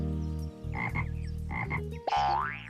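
A frog croaks in an animated animal story, a series of loud, close, rhythmic throaty croaks in two bursts, followed by a rising warbling call, with no talking.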